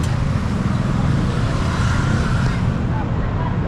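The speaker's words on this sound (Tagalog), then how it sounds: "Itong traffic." Continuous loud rumble of highway traffic with cars passing close by, a dense steady low-frequency roar as a cyclist merges onto the highway.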